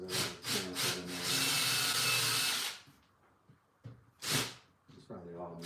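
Hand sawing pre-cuts into oak sapling wood: close, rasping strokes that run into a long, steady cutting burst, then stop. A few sharp scrapes follow, with a voice talking in between.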